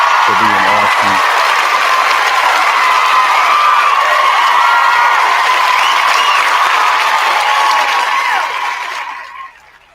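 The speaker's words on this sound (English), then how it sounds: "give T-Bone a round of applause for being awesome" A canned applause sound effect set off by a late-night call-in show host, a dense crowd of clapping and cheering that runs loud and steady and then fades out at the end, with a voice briefly over the start.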